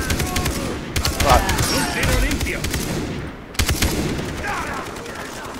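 Machine gun fire in the video game Far Cry 3, rattling in dense, rapid, sustained volleys that break off briefly and resume, while a man lets out a short exclamation.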